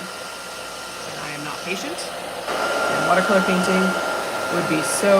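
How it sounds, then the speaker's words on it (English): A steady hairdryer drying a watercolor painting blows with a broad airy whoosh throughout, growing a bit louder midway, while a person talks over it. "I'm going to dry this with a hairdryer now"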